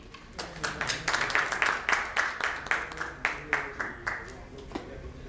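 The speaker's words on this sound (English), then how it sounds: "Can we please have a round of applause for Mr. Mohanty?" A round of applause greets a speaker at a panel session on hyperconverged infrastructure, with steady rhythmic clapping building and then tapering over several seconds, the crowd's claps blending with a faint murmur of voices.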